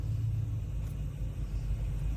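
A 1987 Ford Econoline E-150 conversion van's 5.0 302 V8 idles with a steady, low, even rumble, close and continuous with no misses.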